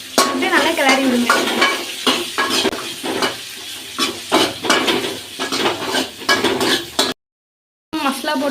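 Shallots, garlic and tomato fry in a pan with brisk, continuous sizzling and frequent scraping stirs of a utensil against the metal, close and loud throughout, no talk.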